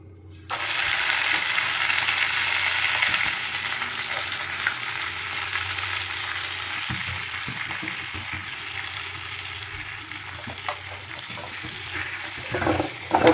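Thuthuvalai leaves are sautéed in a pan for thoodhu ilai kuzhambu. An abrupt, continuous close-up sizzle starts after the leaves drop in, stays steady, and is joined by a few stirring scrapes near the end.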